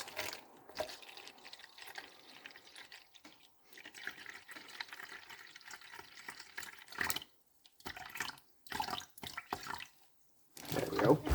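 Water is poured into a container while shave soap is being made, splashing and trickling in uneven bursts, and a person talks quietly between the pours.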